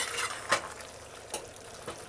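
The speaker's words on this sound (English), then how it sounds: "So just keep on stirring until it creams like cheese." Pasta being stirred in coconut milk in a hot pan, heard up close as a constant sizzle and bubbling with a few soft scraping strokes of the spoon.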